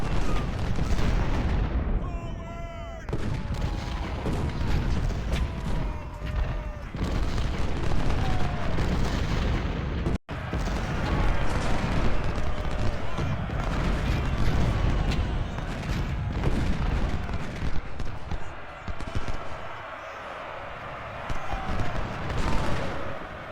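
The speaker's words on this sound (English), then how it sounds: "These cannons are from the Confederates. They're definitely super intense." Confederate cannons boom amid crackling musket volleys in a Civil War game battle at the siege of Fort Washington, a dense, continuous barrage of near and distant shots and blasts with no clear pause.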